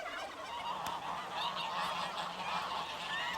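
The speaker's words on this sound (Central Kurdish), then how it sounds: "هاژەی کانی و خوڕەی چەم لەگەڵ دەنگی قەل و قاز و مراویەکان تێکەڵ بووە" Geese and ducks honk and call steadily in Sherwet village, a mountain village below Qandil, mixed with the constant rush of spring and stream water. The bird calls are moderately close and continuous, with no speech.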